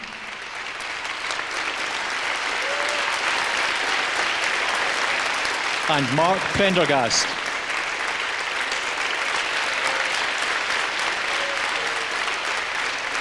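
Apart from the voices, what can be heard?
audience applause for the concert soloists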